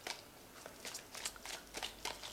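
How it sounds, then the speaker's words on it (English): A deck of Black Cat's Tarot cards is shuffled by hand close up, giving a steady riffling rustle broken by repeated soft flicks, with no talking. "have shuffled this deck."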